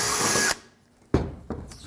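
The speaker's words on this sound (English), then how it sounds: "I'm just drilling like an 1/8 inch hole, maybe 3/16 inch hole first, and then I'll drill a bigger one for the bolt." A power drill bores a small 1/8 to 3/16 inch pilot hole for a solar panel mount on a van conversion, whirring loudly for half a second before cutting off, followed by two sharp knocks.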